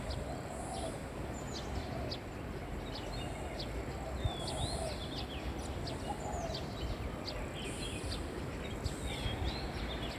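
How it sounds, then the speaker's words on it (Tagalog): Several birds chirp and call outdoors in short, repeated bursts among flowering bougainvillea, fairly faint over a steady rustling background. "Dami pang ibon dito guys."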